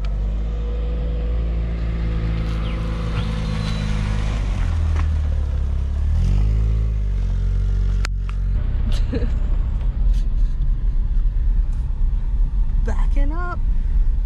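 A car engine rumbles close and loud while the vehicle drives and then backs up, the pitch rising and falling, with scattered knocks and squeaks near the end.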